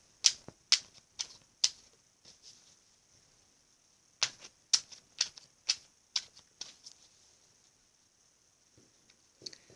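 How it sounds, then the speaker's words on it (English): Divine Circus Oracle cards are riffle-shuffled in a quiet room, giving sharp, close flurries of papery snaps in two bursts of four to five quick riffles each, separated by pauses, with a faint shuffle at the end. "One more shuffle, and then we will"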